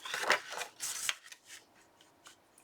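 Scissors cut patterned paper for a Halloween Graphic 45 Ghostly Greetings scrapbook album. A few quick, close snips and crisp slicing strokes come in the first second, then lighter rustling and handling of the paper.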